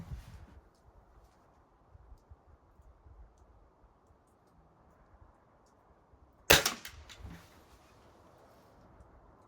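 Shanghai China Model 62 air rifle firing a pellet: one sharp, loud crack partway through after a quiet stretch, followed by a short fading rattle, with no talking.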